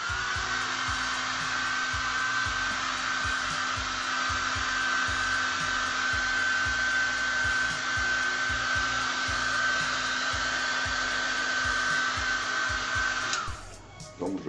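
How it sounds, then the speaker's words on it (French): A hair dryer blows with a loud, constant whirring hiss and a steady high whine, running unbroken until it cuts off near the end, used to speed drying of airbrushed paint layers. "pour accélérer le séchage, le bon vieux sèche-cheveux"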